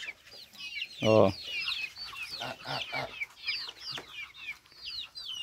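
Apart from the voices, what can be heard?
chicks clucking while eating leaves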